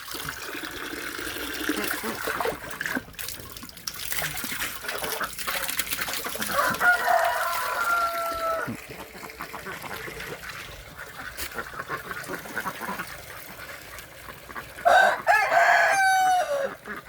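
Yi Liang ducks on a Thai farm let out a few loud calls near the middle and end of the stretch, over running water and a steady background hiss.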